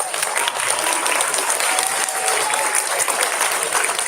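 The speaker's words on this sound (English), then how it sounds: "Boys and girls, you can clap again for them." Children in a school audience clap steadily at a Veterans Day program, a dense, continuous round of applause from a crowded room that holds at an even level throughout, with no voices rising above it.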